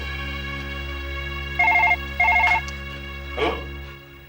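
In a Hindi horror drama, a telephone rings loudly and nearby in two buzzing bursts of bell-like trilling, followed by a brief clatter as the receiver is picked up, all over a steady low hum.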